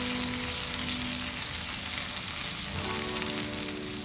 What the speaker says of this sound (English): It is 2 minutes that the fish is frying from the other side